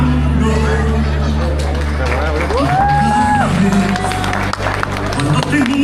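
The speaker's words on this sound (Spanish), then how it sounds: "El aplauso para José y Sara." Wedding guests applaud and cheer at a reception in Little Rock, Arkansas, a steady crowd of clapping and voices mixed under music and a speaker's voice on the microphone.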